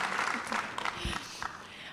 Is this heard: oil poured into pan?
no